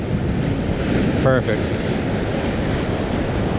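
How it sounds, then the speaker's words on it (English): Sea waves surge and spill up around coastal rocks in a steady, close, washing roar mixed with wind noise, and a voice speaks briefly partway through. "And then the water comes spilling up around it."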